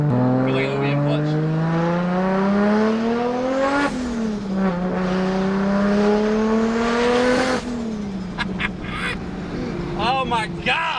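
An 800 HP Nissan R33 GTR accelerates hard from inside the cabin, its engine note rising in loud, sustained pulls broken by two quick shifts. Talk is heard near the end.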